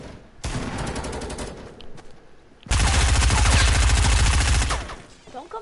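Video game gunfire in two long automatic bursts, the second heavier and sustained for about two seconds, with brief quieter gaps and scattered shots between them.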